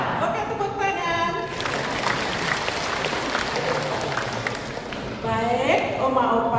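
An audience at a church seniors' fellowship service claps together in a dense, steady burst of applause lasting several seconds, with a speaker's voice heard just before and right after it.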